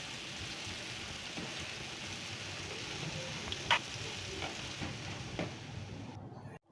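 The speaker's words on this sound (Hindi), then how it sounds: "अब मैं बाकी दाल के जो भल्ले रह गए हैं मैं उनको भी फ्राई कर लूँगी।" Urad dal bhalle frying in hot oil, a steady close sizzle and crackle holding level throughout with a few brief louder pops, no talking.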